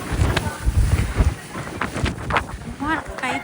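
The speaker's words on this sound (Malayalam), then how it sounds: "ഇത്രയധികം കാറ്റടിച്ചിട്ട് എന്താ ചെയ്യേണ്ടേ തിരിയുന്നില്ല" Strong wind buffets the microphone on the Great Wall at Badaling, a loud gusty low rumble throughout, with several people talking over it.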